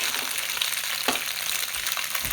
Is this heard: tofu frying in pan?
yes